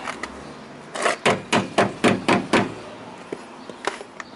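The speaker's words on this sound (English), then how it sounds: "You take your rubber mallet" A rubber mallet strikes a car wheel about eight times in a quick, even rhythm, each blow a dull, close thud, followed by a few lighter, scattered taps.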